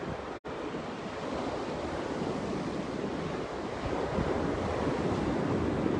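Sea waves wash onto a beach by sea caves, a loud, steady roar of surf with wind buffeting the microphone, one brief dropout near the start, and no voices.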